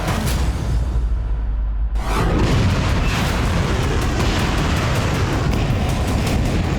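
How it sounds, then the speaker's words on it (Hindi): An Iskander missile strikes a Ukrainian army headquarters in Kharkiv: a sudden deep boom erupts about two seconds in and swells into a loud, sustained roar of blast and rumble, with no voices. "रूस की इस्कंदर मिसाइल आकर गिरी और खार्किव में यूक्रेनी सेना का हेडक्वार्टर मलबा बन गया।"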